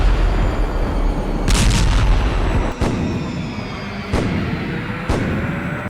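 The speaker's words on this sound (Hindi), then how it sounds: "तोप, लंबी दूरी के रॉकेट और लड़ाकू हेलीकॉप्टर से हमले किए जा रहे हैं।" Artillery and rocket fire in the Russia–Ukraine war, several sharp booming blasts spaced a second or so apart over a constant rumbling background of distant bombardment.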